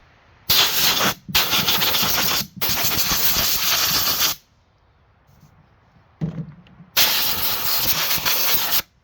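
Bursts of compressed air hiss loudly over a chainsaw's air filter cover, clearing debris in four long blasts separated by short pauses, with a brief clunk of handling between them.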